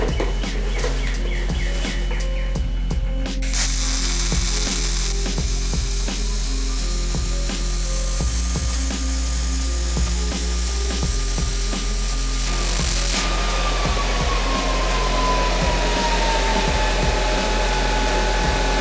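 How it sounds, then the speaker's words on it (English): A Miller Multimatic 220 welder lays full passes while a truck frame is notched for air-ride coilovers, giving a close, steady crackling hiss for about ten seconds over a constant low machine hum. "this is my first time welding full passes using this new Miller Multimatic 220"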